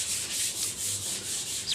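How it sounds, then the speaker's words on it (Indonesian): Sandpaper rubs over a plywood cabinet surface previously coated with filler, giving rhythmic back-and-forth scratchy strokes, close and moderately quiet, about five passes with no talking. "Untuk langkah pertama, saya amplas dulu permukaan lemari yang sebelumnya saya sudah dumpul atau impra"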